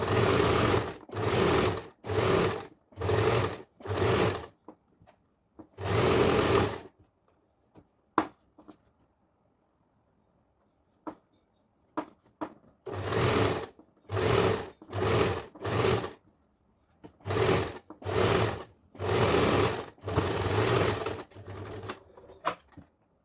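A sewing machine runs in repeated short bursts, stitching a neat topstitch along a garment neckline, with quiet pauses and small clicks between runs as the fabric is repositioned.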